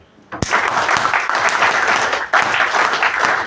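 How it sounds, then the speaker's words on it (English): Audience applause at a personality development training session, starting abruptly with a sharp clap and continuing as a dense, lively burst of many hands clapping, briefly dipping and then surging again. "A big round of applause"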